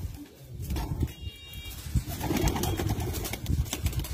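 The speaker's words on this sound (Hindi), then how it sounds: "उस्ताद रफ़ीउल्लाह ख़ान ईसा खैल के जो घर के ब्रीडर कबूतर हैं" Teddy flying breeder pigeons at Ustad Rafiullah Khan Issa Khel's home loft fill the air with close, continuous cooing and fluttering, a dense, busy flock sound with no speech.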